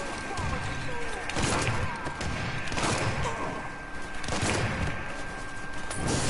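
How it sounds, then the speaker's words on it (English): Grenade blasts and heavy gunfire in a Mafia 3 firefight, loud repeated booms and cracks spread across the clip over a continuous roar of combat noise and a steady high tone. "Let's throw some grenades."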